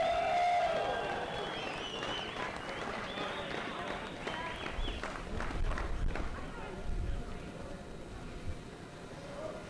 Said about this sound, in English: let's give these 10 to 12 boys a round of applause!